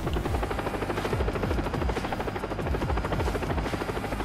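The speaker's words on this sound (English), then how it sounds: "Is it the chopper?" A helicopter in the video game Far Cry 3 thumps steadily with loud, rapid rotor pulses and a continuous engine drone, holding close and constant throughout.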